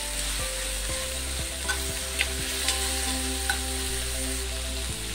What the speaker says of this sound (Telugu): ఇప్పుడు ఇందులో నేను అల్లం వెల్లుల్లి పేస్ట్ యాడ్ చేశాను